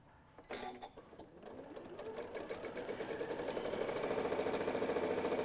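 A sewing machine runs a row of topstitching along fabric for a stuffed nativity piece, starting with a clunk and building into a fast, even mechanical whir that grows steadily louder and closer.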